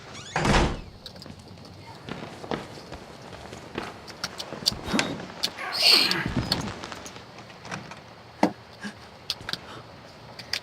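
A heavy door thuds shut in the horror game Outlast, set among scattered footsteps and bumps, with a player talking quietly throughout.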